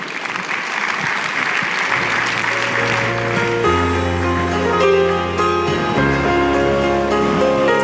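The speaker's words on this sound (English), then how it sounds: "Give him another round of applause." Investment summit audience applauding after a speech, dense loud clapping at first that gives way to music with sustained tones underneath.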